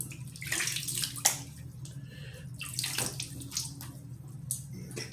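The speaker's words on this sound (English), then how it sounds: "Get the face wet again." Water runs from a tap into a sink while the face is wetted during a wet shave, a close, steady splashing stream with uneven bursts and gurgles, no voices.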